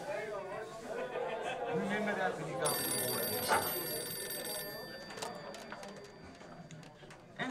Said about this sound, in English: Phone call for Norman Knox.